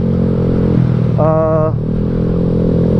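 A Yamaha Mio scooter engine runs steadily up close, a loud, even mechanical hum with a brief higher-pitched tonal rise in the middle before settling back to idle, no voices.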